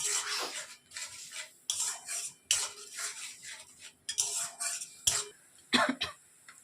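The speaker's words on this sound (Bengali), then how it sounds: "এবারে এটাকে একটু ভালোভাবে কষিয়ে নিচ্ছি।" Shrimp and pointed gourd being stirred and fried in a pan with a splash of water, with repeated scraping and clinking of a utensil against the metal pan in short bursts, close up, with no talking.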